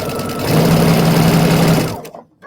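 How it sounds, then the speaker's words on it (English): A sewing machine stitches a Friendship Star quilt block in one steady, rapid mechanical run of about a second and a half, close and clear, before stopping abruptly. "So now I'm going to sew that on."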